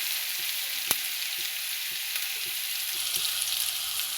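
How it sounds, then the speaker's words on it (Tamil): Chopped onion sautés in hot oil in a pan for a fish curry, giving a steady, even sizzle with a few soft clicks of a spoon against the pan. "இது லைட்டாக கொஞ்சம் வதங்கட்டும்."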